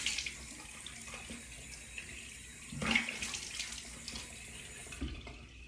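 Tap water runs steadily into a sink as someone rinses their face during an evening skincare routine, a continuous splashing hiss with a brief louder surge of splashing near the middle.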